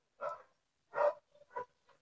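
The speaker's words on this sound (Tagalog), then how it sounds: "ang ingay ng aso" A dog barks nearby in a few sharp, separate barks with short gaps, clear and fairly loud against an otherwise quiet background.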